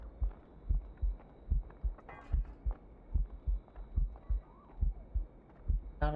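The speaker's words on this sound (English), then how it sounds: "Moving keeps my heart beating." Game heartbeat effect in Assassin's Creed Rogue, a steady thumping pulse of paired low beats repeating evenly about once per second, fairly faint, with a brief higher sound near the end.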